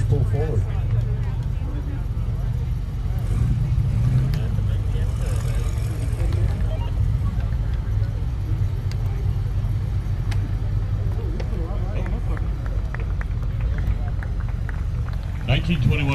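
A restored 1921 Duesenberg Model A Bender Coupe rolls forward at a concours, its steady low engine and road rumble continuous throughout, with crowd chatter and a public-address voice over it.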